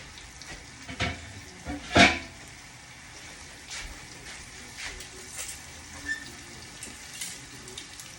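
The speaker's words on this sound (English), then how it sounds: "I'm searing it because the jerk marinade has olive oil in it." Jerk-marinated meat sears in a pan of olive oil with a pat of butter, giving a low, steady sizzle broken by a few sharp clatters and taps, with no talking.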